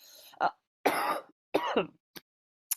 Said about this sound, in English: all the coughing might not be the best performance